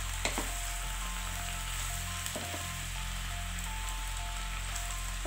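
Genjer leaves sizzle and fry steadily in a hot wok, a continuous close, even crackle with a few faint clinks of stirring and no voices.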